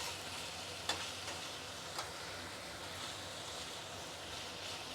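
Ivy gourd pachadi sizzling in a pan while being stirred: a steady soft frying hiss with a few faint clicks of a spoon against the pan, fairly quiet and without talk.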